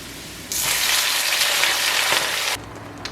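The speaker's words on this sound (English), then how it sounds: "I'm gonna let this fry a little till it gets golden brown" Callaloo hits hot oil in a pan and sizzles loudly and steadily for about two seconds, then drops back to a quieter frying hiss.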